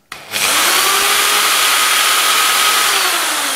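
An electric drill spins up abruptly after a short click and then whines steadily at full speed, close and loud, set near a magnetic ball; no one speaks.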